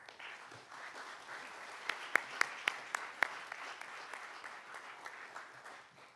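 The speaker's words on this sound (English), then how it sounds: "please give him a round of applause" Audience applause at a Politics and Prose author event, a steady wash of clapping from a seated crowd at moderate level with a few sharper, closer claps standing out midway.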